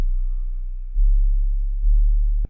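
Deep, pure sine-wave bass from an 808 synth plays alone and loud, a smooth low hum held as a long note and stepping to slightly different pitches twice before cutting off with a brief click.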